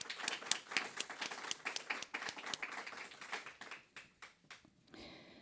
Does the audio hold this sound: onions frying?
no